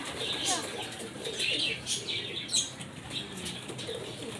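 Pet pigeons flap their wings in several brief bursts, with soft cooing and faint chirps close by over a steady background.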